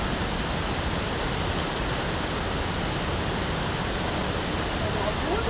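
Water flows steadily, a dense rushing hiss like a stream or small waterfall, loud and close, continuous with no breaks.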